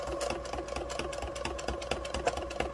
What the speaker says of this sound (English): you're going to sew really slow so you can go around this curve using your fingers